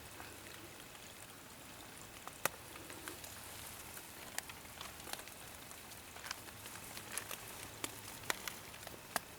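Rain drops onto a ZPacks Hexamid Solo Plus tarp in a forest, a faint steady hiss broken by sharper scattered taps of heavier drops hitting the fabric nearby.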